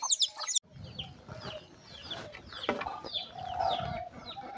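Village chickens cluck softly nearby, with scattered short calls and a brief higher squawk. The sound stays at a low level over faint outdoor background noise.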